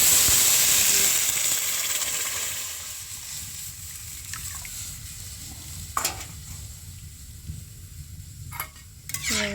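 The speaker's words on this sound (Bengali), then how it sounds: "একটু নেড়ে নেব।" Badshabhog rice being stirred into about a kilo of milk for payesh, with a steady steamy hiss from the simmering pot and a few soft scraping strokes of the spoon near the end.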